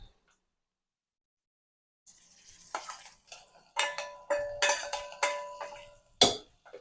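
Hot tempering poured into foxtail millet pongal and stirred, giving a series of close metallic clinks and scrapes of a spoon against the pot, starting after a silent pause and growing busier, no speech.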